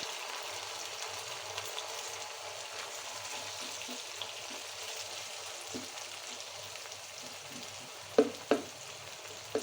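Minced meat sizzles and fries in a pan with a little water for a qeema lobia curry, a soft, steady crackle that runs the whole time, with a few louder knocks of a utensil near the end.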